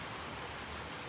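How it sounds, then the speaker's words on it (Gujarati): Rain falls steadily in Rapar, Gujarat, a dense, even hiss of drops lasting about a second with no voices or other sounds above it. "બસ એવો વરસાદ થઈ ગયો છે"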